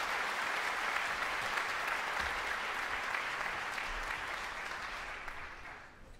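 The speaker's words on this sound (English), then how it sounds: "One more round of applause, please, for our 3- and 4-year All-State Scholarship winners" Audience applause fills a hall at an All-State Band ceremony honoring scholarship winners, a steady dense wash of clapping that holds evenly and then thins and fades near the end.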